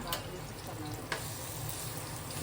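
Vadi fry on an old tawa with a soft, continuous sizzle and crackle, faint and close, beside a pot of cooking fish curry, with a brief clatter partway through.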